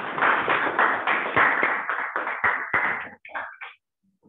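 An audience at a Toastmasters club meeting claps steadily for about three seconds, a close, even patter of many hands that quickly thins out to a few last claps before fading.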